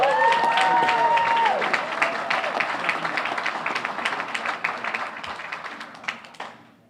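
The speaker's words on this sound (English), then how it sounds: "One more time, another round of applause for Revere Boxing." Applause for Revere Boxing at a Chamber of Commerce awards ceremony in Revere, a crowd clapping steadily while a voice speaks over the opening, then the clapping thins and fades out over several seconds.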